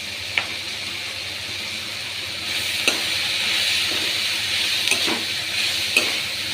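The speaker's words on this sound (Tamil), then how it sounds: "புளியை போட்டுட்டு நல்லா வதங்கணும்" Curry leaves, coriander and tamarind with turmeric sauté in a pan, a steady close sizzle and hiss with a few sharp taps of a spoon against the pan.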